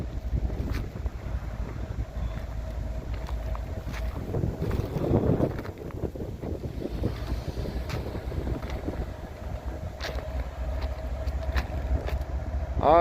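A locomotive pulls ahead on a yard lead track in Abbeville, a continuous low engine rumble heard outdoors with gusty wind buffeting the microphone and a slight swell midway.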